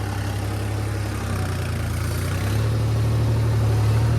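A red 3630 tractor stuck in a waterlogged, muddy field runs with a loud, steady diesel rumble close by, its pitch rising slightly as the engine revs up partway through.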